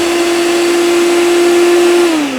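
A kitchen blender whirs loudly while blending watermelon gazpacho, a steady high motor whine that holds even, then dips slightly in pitch near the end, with no speech over it.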